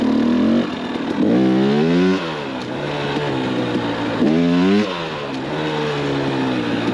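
Two-stroke motorcycle fitted with a Lectron carburetor revving hard in second gear, close and loud, with rising and falling engine pitch sweeps across repeated throttle bursts and steady running between them.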